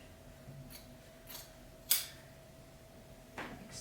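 Scissors snip through wool blanket fabric while a seam is graded, four separate crisp cuts spaced out over a few seconds against a quiet background.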